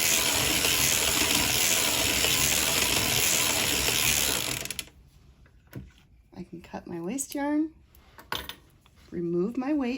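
Circular sock machine cranked while knitting a bonnet in project yarn, giving a dense, loud ratcheting metallic clatter for about five seconds that then stops, followed by a voice talking.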